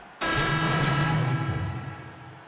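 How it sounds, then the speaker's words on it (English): Arena crowd noise from the video game NBA 2K16, with a Boston crowd at a Celtics versus Knicks game, bursts in suddenly as a loud, broad roar with a sustained tone, then eases slightly. "This Boston crowd ready to roar in this Eastern Conference matchup for the Celtics."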